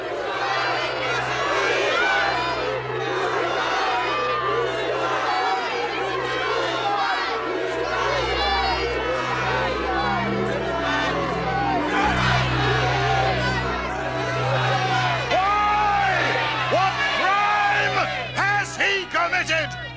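A large crowd shouts and clamours in a dramatized Gospel scene before Pilate, many voices overlapping into a dense, loud roar that continues throughout, with some speech mixed in.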